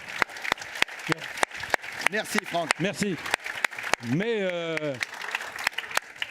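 A live audience applauds hairdresser Franck Provost with scattered, crisp handclaps that continue throughout, while someone speaks and thanks him over the clapping.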